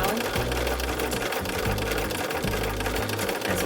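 A Bernina sewing machine stitches a fabric bookmark, its motor whirring in close, loud bursts that start and stop several times, with a voice speaking over the sewing.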